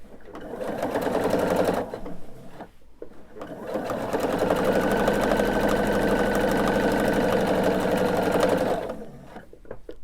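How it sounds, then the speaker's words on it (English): Sewing machine running steadily while stitching quilt binding, a close, loud mechanical hum that pauses briefly near two seconds, then resumes continuously before stopping near the end. "So we're just going to turn it and go back under the machine. Make sure I'm sewing forward and not backward."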